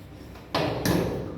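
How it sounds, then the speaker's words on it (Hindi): A home gate being opened early in the morning: a sudden metallic clank followed by a second scraping knock, close and fairly loud against a quiet background. "ये मेरा खुल गया दरवाज़ा।"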